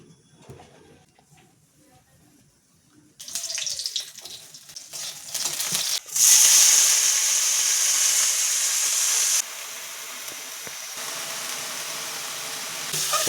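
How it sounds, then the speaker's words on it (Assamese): Dhekia fiddlehead fern greens hit hot oil in a home kitchen pan, going from quiet to a loud, steady hiss and sizzle that settles to a softer continuous fry. "প্ৰথমে ঢেকীয়া ভাজিম আমি।"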